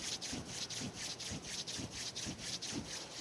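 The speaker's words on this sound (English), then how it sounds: "And rub your hand warm." Hands rub briskly together to warm them, a close, soft swishing friction in a steady back-and-forth rhythm of about two strokes per second, quiet and unaccompanied.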